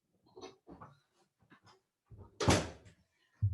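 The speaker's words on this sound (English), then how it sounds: "Let me close the door to my closet." A closet door shuts with a single loud, close thud and rattle after some quiet shuffling, with a second knock right at the end; no one talks.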